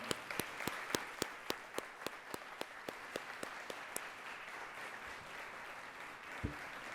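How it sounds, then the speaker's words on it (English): Audience members at a panel discussion on the LGBTQ+ community clap for the panelists, a thin scatter of individual claps that fades over several seconds, fairly quiet and without talk. "Big round of applause to all of them."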